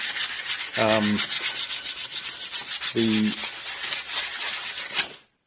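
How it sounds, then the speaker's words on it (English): Sandpaper rasps steadily against a rusty metal bicycle frame in continuous back-and-forth strokes, close and loud, with a couple of brief squeaks along the way. "I'm just going to start by sanding off, lightly sanding"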